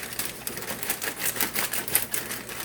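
Dull old kitchen scissors snip during meal prep of a sugar-free cake mix recipe, a quick run of dry, crisp clicking cuts in an irregular rhythm, close and fairly quiet.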